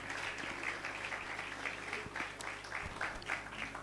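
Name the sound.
congregation applauding in church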